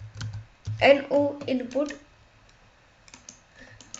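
Light clicking of keys on a computer keyboard, faint and sparse, mostly heard after a man finishes a short stretch of speech.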